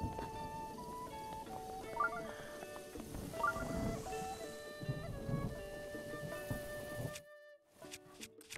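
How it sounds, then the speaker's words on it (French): Thunderstorm with steady rain in Zelda: Breath of the Wild, a continuous wash of rainfall with low rumbling thunder and game tones, ending in a brief cutoff before faint sounds return. "Ah, tonnerre."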